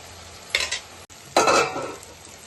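Tomato pieces for prawn curry hit hot oil in a pan with two loud bursts of sizzling and stirring, separated by a brief gap, then fade to a softer fry.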